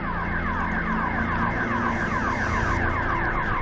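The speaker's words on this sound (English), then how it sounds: "The sirens going off in the background." Warning sirens sound across the starting grid of the German MotoGP race, a loud, steady cycle of repeating wailing sweeps that fills the whole stretch with no voices.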